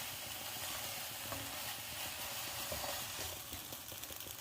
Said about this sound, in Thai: ผัดให้เข้ากันดีนะคะ